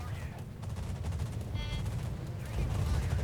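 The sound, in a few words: aircraft rocket strike in video game World of Warships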